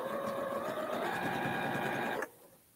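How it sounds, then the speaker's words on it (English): A sewing machine stitching two quilt flying geese units together runs at a steady, even hum for about two seconds, then stops abruptly, leaving quiet room tone. "So I'm going to sew these two flying geese units together."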